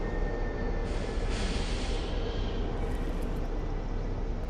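A train in Fortnite rumbles past with a steady rolling roar and a brief hissing, squealing rise of its wheels, heard alone without voices.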